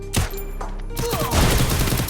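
Free Fire gunfire crackles in rapid bursts, with a loud burst of automatic fire close up running into dense overlapping shots. Game sounds play underneath and a voice is heard briefly.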